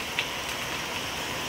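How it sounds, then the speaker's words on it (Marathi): Rain falling outdoors near hills, a steady close hiss of drops with no talk over it. "शिट, पाऊस उगाचच आला"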